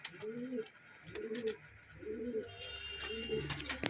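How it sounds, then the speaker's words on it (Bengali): Pigeons in a Bengali loft give four rhythmic, close coos, each a low rounded rising-falling call, over a faint background hum and light rustling. "আর ভাইয়ের বাড়ির পায়রা।"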